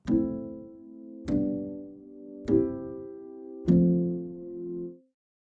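Four simple sustained chords played one after another at a slow, even pace, each ringing out before the next, with no voices.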